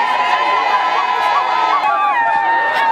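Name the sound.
crowd of men, women and children welcoming Katumbi supporters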